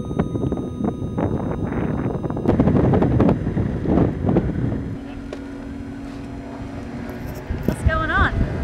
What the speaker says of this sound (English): It was all fine until some strong winds came that afternoon